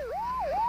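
A police siren wails close by in a brief burst, its pitch sweeping down and up in a rising, falling pattern.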